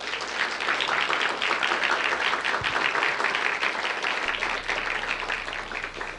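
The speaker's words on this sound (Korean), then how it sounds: "우리 백 목사님께 박수 한번 주세요." Sustained applause from a large church congregation at a Friday worship service, a thick continuous patter of many hands clapping at a steady level throughout.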